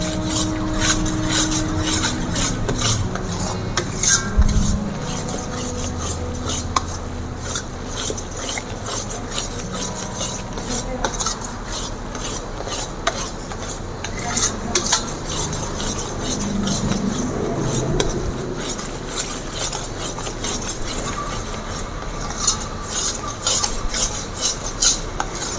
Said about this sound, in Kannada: ಕೈ ಬಿಡ್ದಿರ ತಿರುಗಿಸ್ತಾ ಇರಬೇಕು. ಎಳೆ ಕಾವಿನಲ್ಲೇ ತಿರುಗಿಸ್ಬೇಕು.